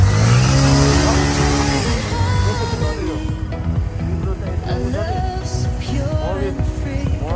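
A vehicle engine in the cold at Kagbeni in high-altitude Nepal revs loudly and steadily up close, rising and falling, with voices talking over it throughout.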